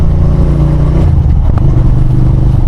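Motorcycle engine running loudly and close during a test ride in Australia after an oil change, a steady rumbling drone with small surges and clatter, no talking.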